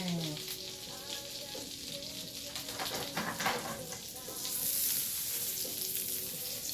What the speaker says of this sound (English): Ooh, sizzling.